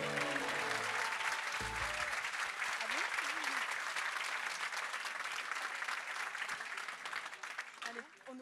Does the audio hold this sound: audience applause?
yes